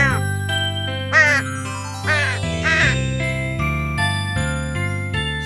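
Crow cawing in a kids' animation, a few cartoon caws set over bright tinkling chime music that plays continuously, moderately loud with no talking.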